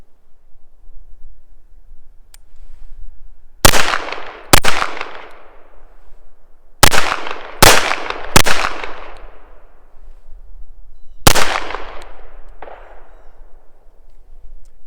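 A Llama Max 1 pistol in .38 Super fires MagTech 130 grain full metal jacket rounds: six sharp, loud cracks in irregular pairs and singles, each with a short ringing echo, over quiet outdoor background.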